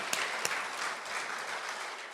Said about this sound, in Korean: 우리 박수 하나님께 영광 올려주실까요?